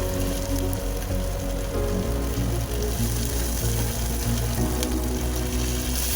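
Cumin seeds, grated onion and grated garlic fry in hot oil in a pan, a dense, steady close sizzle and crackle that holds evenly from start to end with no voices.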